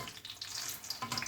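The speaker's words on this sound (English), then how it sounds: "what we're going to do is we're frying them off" Sausages sizzle and spit in a hot pan, a steady crackling hiss at moderate volume with no talking.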